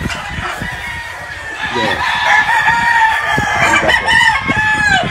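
Pumpkin gamefowl roosters in a breeding pen on a gamefarm, crowing loudly with several overlapping calls and clucks against farmyard noise, while a person murmurs briefly.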